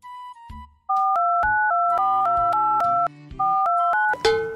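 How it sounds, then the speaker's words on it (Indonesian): Phone call being placed: an opening tone, then a melodic sequence of two-note electronic dialing and ringing tones, loud and clear, ending with a brief clatter. "Sik, tak telepon Nando sik."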